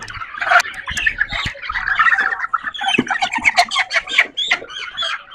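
Tiger-breed chickens and roosters on a poultry farm squawk and cluck in a dense, continuous chorus, close by and fairly loud, with overlapping calls throughout.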